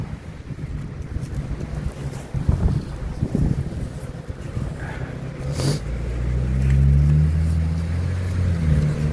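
Strong wind buffets the microphone outdoors, with steady low rumbling gusts that swell louder toward the end.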